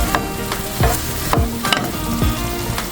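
Ground beef seasoned with salt, pepper and garlic powder sizzles in a frying pan while a utensil stirs it, steady crackling broken by several scraping strokes against the pan, close and loud with no talking.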